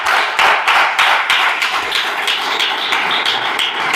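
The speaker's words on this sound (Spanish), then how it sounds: "¿Cuántos dan un fuerte aplauso a su santa y divina palabra?" Church congregation breaking into loud applause after a sermon reading, a dense wash of clapping hands with rhythmic pulses, steady and close, continuing throughout.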